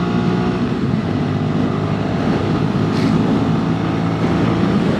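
A Sinnis SM-XE motorcycle picks up speed on a road, its engine drone steady and continuous, mixed with heavy wind rush, with no voices.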